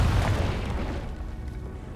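A fiery Confringo spell explosion in the video game Hogwarts Legacy, a loud booming burst at the start that rumbles and fades out over two seconds.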